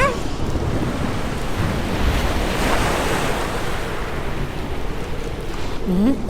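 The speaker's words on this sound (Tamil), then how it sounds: "அம்மா மருமவளை கடல் அலை நல்லா சீறிக்கிட்டு வருதுமா" Roaring sea waves in a Tamil cartoon, a loud, steady wash of surf and wind that keeps up without a break.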